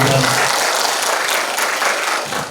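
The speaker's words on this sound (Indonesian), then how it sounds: "Tepuk tangan untuk kita semuanya." Applause from an audience at an Islamic education seminar, a short dense burst of clapping with a voice faintly mixed in near the start.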